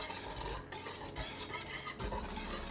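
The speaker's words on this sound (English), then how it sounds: "Whisk it up. Make sure all this is mixed pretty well." A wire whisk stirs dry pudding ingredients for banana pudding in a bowl, a steady close scraping and rattling that runs continuously with a few brief pauses and no talking.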